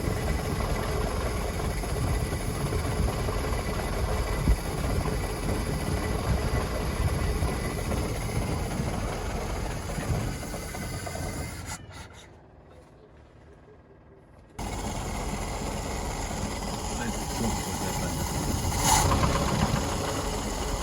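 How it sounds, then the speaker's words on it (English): A Land Rover Series IIA engine, fitted with an electronic distributor, idles steadily and loudly up close, cutting out briefly before restarting and settling back into an even idle. "we've run this engine, just been for a drive, timing sorted with the electronic distributor"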